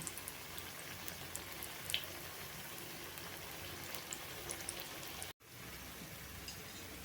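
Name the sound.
aloo tikki frying in a pan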